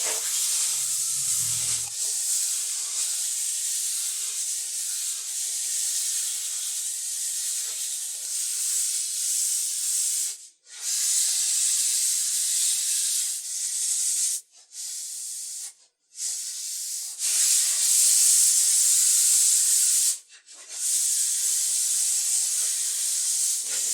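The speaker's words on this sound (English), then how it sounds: "So we're going to sand everything by hand" Hand sanding wooden lantern parts with 500 grit sandpaper, steady loud hissing strokes held for several seconds at a time, broken by a few brief pauses.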